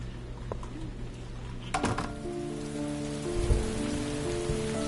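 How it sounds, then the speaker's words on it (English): Steady rain patters on surfaces outside a house in the video game Heavy Rain, a constant soft hiss with a brief clatter and low tonal hum midway. "It's raining."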